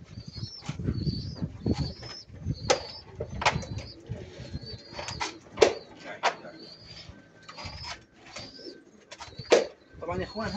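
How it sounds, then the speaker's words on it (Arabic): Pigeons newly bought from a market, soft cooing mixed with wing flutters and shuffling nearby, with faint background sounds and some low voices. "هان الحمامات دول"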